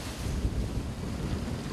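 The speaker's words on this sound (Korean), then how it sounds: "거세고 드센 파도를 뚫고" Rough sea waves crash and surge against a 10-ton fishing boat working at sea, a loud, continuous wash of water with heavy wind buffeting the microphone.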